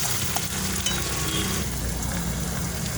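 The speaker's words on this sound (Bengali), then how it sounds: "ভালো করে নেড়ে নেবো আর টমেটোটা লাল লাল করে" Chopped tomatoes sizzle steadily in a wok as they are stirred and fried, a close, continuous frying hiss with faint scraping.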